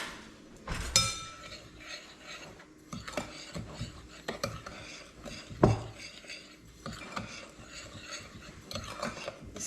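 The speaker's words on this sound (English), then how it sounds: "Let's get that all stirred together." Dry sugar, flour, salt and cinnamon being stirred together in a bowl for a rhubarb pie, heard as soft scraping and light clinks of a utensil against the bowl, close and fairly quiet, with a few louder knocks.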